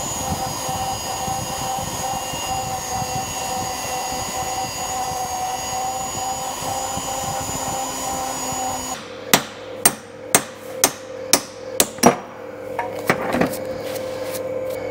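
Sharp metal hammer blows on a Dana 60 axle ring out in a quick series of about eight strikes after a long stretch of steady machinery drone, loud and close with brief pauses between hits.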